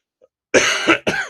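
A lingering, niggly cough sounds as two quick, close coughs in a row after a moment of near silence, with no talk over them.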